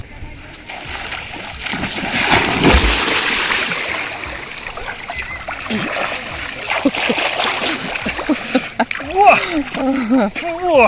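Water splashes and sloshes close by as people swim in the sea at Sudak, Crimea, with voices talking and calling out over the watery noise.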